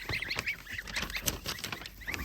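Many small birds cheep and peep in rapid, overlapping high calls, a busy chorus of young Kholmogory goslings close by.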